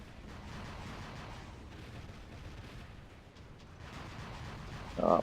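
Orkan rockets launch in the robot combat game War Robots, a dense rumbling volley of muffled blasts and booms that rolls steadily, then swells louder near the end.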